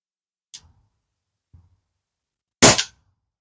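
Crosman Vapor Max air rifle fired at small targets: two faint, short snaps followed by one loud, sharp crack with a brief ringing tail, each isolated in otherwise quiet surroundings.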